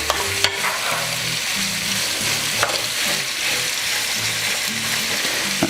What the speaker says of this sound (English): we're gonna stir it up, and we're gonna let it kind of saute here until the onions get nice and soft.